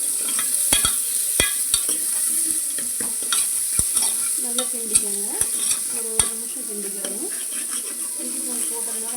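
Onions sizzle steadily with salt in a hot pan with sharp clicks of a spoon stirring against metal, and a voice speaks briefly in the background.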